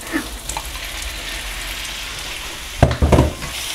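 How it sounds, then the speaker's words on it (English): Garlic, onion and pork belly sizzle and fry steadily in a pan for pinakbet, a constant bed of crackle with a couple of louder stirring clatters near the end. "ginisa ko na yung bawang tsaka sibuyas. Tapos nilagay ko na yung pork belly"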